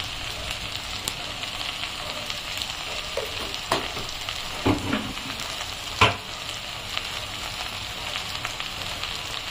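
Okra seasoned with salt stir-fries in hot oil with a loud, continuous sizzle, and a few sharp spatula knocks and scrapes rise above it. No one speaks.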